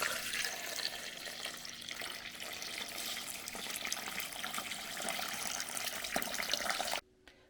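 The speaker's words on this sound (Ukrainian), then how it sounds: "склала в кастрюлю та залью водою, щоб покрило буряк" Water runs steadily into a pot of beets for several seconds, a continuous splashing rush that stops abruptly near the end.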